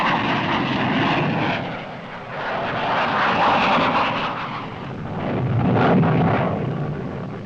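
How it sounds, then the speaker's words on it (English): Fighter aircraft scrambled for a U.S. air strike in 1968, a loud continuous engine roar that swells, dips and swells again as the planes pass, with no voices. "The Fighter Duty Officer scrambles the fighter aircraft, and the strike is on."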